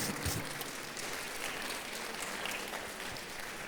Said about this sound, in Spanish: Le va a dar un aplauso al Señor